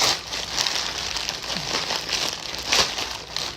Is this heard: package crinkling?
yes